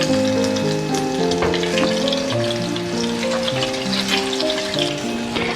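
Crispy cheese potato rolls fry on low heat in a pan with a steady, gentle sizzle that runs throughout, while melodic background music plays underneath.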